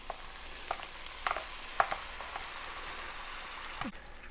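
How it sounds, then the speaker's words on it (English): Trader Joe's kimchi soup pours into a hot pan and sizzles in a soft, steady frying hiss, with a few faint stirring clinks near the start and a scrape at the end. "All right, let's add our soup."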